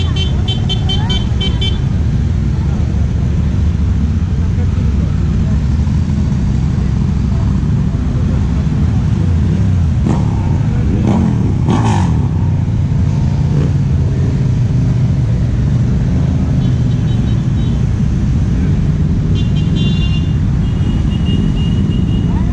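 A crowd of motorcycles rumbles past steadily during a flag parade at the Pingüinos 2019 rally in Valladolid, with a constant engine drone, brief horn toots and occasional revving.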